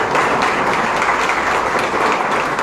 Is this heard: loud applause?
yes